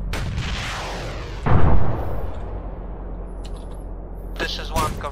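Cannon fire in Arma 3 lands as a heavy, close boom and then a long rumbling decay, followed by a faint later crack and some radio-style chatter.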